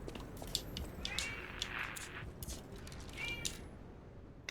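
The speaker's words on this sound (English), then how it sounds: "Man, my cat is pissed." A pet cat meows loudly and plaintively in a room, with two drawn-out complaining cries over a soft background hiss and a few small clicks.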